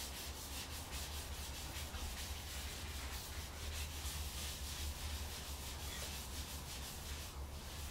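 Wax being rubbed by hand into wood with a cloth: a steady, close, continuous soft friction swish with no pauses, fairly quiet and with no talking.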